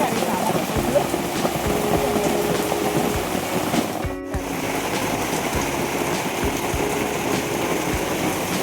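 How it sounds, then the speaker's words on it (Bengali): Heavy rain pours outside, heard from indoors as a loud, dense, continuous wash of drops with a brief dip midway, with no speech. "বাইরে কি জোরে আওয়াজ হচ্ছে বৃষ্টি"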